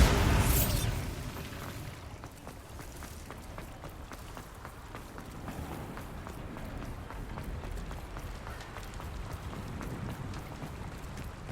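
A Bombarda spell in Hogwarts Legacy bursts with a loud, sharp explosive blast right at the start. It fades into a steady bed of game ambience and rhythmic running footsteps.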